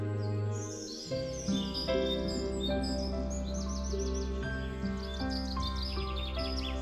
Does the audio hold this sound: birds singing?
yes